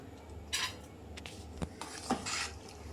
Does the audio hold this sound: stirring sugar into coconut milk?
yes